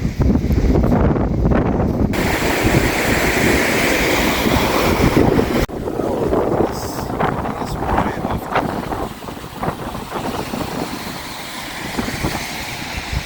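Loud, unbroken roar of storm wind with dense rain hissing and drumming throughout, close and heavy, during a storm in Zagreb, Croatia, dipping briefly midway before surging on.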